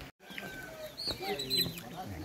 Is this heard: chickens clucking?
yes